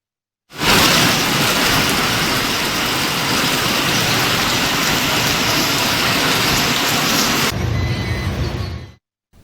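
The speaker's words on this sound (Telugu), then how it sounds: "రాత్రి నుంచి ఎడతెరిపి లేకుండా వర్షం పడుతుంది" Heavy, unbroken rain pours down over Hyderabad, a loud dense roar of drops hitting surfaces that holds steady throughout with no voices.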